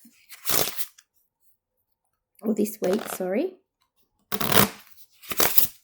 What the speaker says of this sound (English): Sorry for the noise of shuffling.